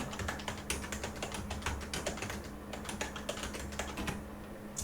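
Rapid typing on a computer keyboard, a steady stream of light clicking keystrokes with irregular rhythm, faint and close, under a low background hum.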